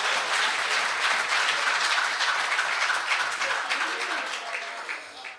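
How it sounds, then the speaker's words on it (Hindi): Loud, dense audience applause at an Urdu and Hindi poetry recital, a steady wash of clapping throughout that tapers slightly toward the end. "तो एक बार जोरदार तालियां, आप माहौल बनाएं।"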